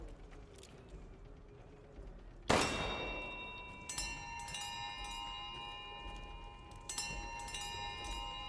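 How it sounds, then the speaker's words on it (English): A bell ringing in the horror game Resident Evil Village, with a sudden loud clanging strike followed by sustained metallic ringing tones and further chimes that decay slowly over a quiet background. "There's a bell!"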